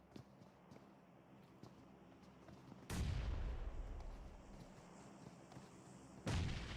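A grenade goes off in a competitive battle-royale match, a sudden loud booming burst with a rumbling tail, followed moments later by a second sharp blast, over faint background game noise.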